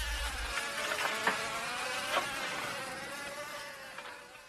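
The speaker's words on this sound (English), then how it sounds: "Flies buzzed about everywhere." Flies buzzing in a radio drama sound effect, set among the green-water stink of fallen lighthouse tower stones: a faint, steady whining drone of several insects that hovers and wavers throughout, with no voices.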